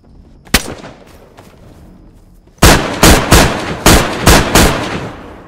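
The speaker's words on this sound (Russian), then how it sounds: "Стреляй, стреляй по ним. Стреляй по зомби." Gunfire in the video game DayZ, shooting at zombies: one sharp shot, a pause, then a rapid string of about seven loud, close bangs fired in quick succession.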